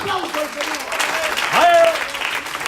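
A church congregation claps during a sermon, a steady patter of hands under a preacher's raised voice, with loud talking and shouts on top of the clapping.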